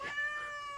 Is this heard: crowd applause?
no